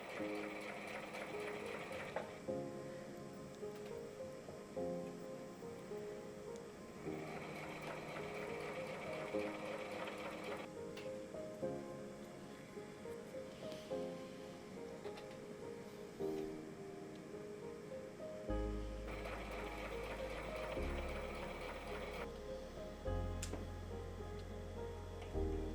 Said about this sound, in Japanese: キルト綿の端を順番に縫って1枚のトップを作り